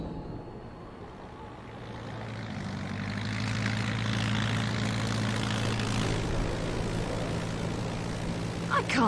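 An airplane's propeller engines drone steadily through the whole stretch in the Bayonetta 2 game, a constant low hum that swells slightly midway, heard from inside the cabin, with a faint sharp click near the end.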